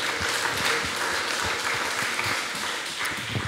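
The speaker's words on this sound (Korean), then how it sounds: "부활하신 주님 앞에 영광의 박수 올려드리겠습니다" A church congregation applauds during a Korean Easter worship service, a sustained, even bed of many hands clapping at moderate volume, with no talk over it.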